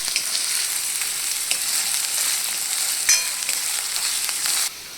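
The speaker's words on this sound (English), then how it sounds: "Then add the chopped onions. Saute them until they are translucent." Chopped onions sautéing in a pan for Lung Fung soup make a bright, steady sizzle that runs close and alone, with an occasional stir or scrape before it cuts off near the end.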